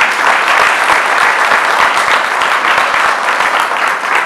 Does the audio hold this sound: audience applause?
yes